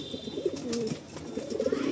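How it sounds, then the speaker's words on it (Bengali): Pigeons, including Black Madrasi pigeons kept for sale, coo steadily and close by in soft, rolling throaty calls that repeat through the whole stretch with no one talking. "এই একটা পায়রা দাদার নিচে রয়েছে"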